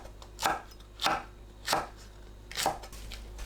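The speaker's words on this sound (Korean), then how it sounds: "청양고추를 어슷 썰어주세요" A knife slices Cheongyang chili peppers diagonally on a cutting board: four crisp, evenly spaced strokes, close and fairly quiet, with no talking.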